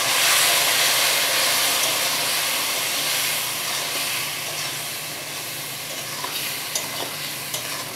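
Spice paste mixed with a little water hits a hot pan and sends up a loud, dense, hissing sizzle. The sizzle is strongest at first and eases slightly over several seconds, with a few faint stirring clicks later.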